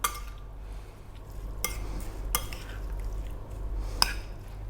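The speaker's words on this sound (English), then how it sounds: "I'm going to give that a mix." Utensils clink and scrape against a bowl while a tuna and white bean salad with olive oil is mixed, a few sharp knocks over a steady low kitchen hum.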